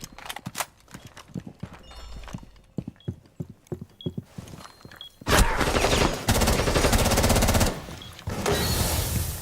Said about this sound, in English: you literally hear him walking up through the bathroom